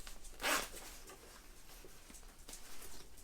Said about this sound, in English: Okay, it's got a double zipper